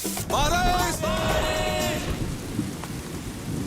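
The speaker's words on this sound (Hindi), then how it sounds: "बारिश" Rain and thunder sound effect, a steady hiss of heavy rainfall with a low rumble underneath, and a voice briefly crooning over it at the start before the downpour continues alone.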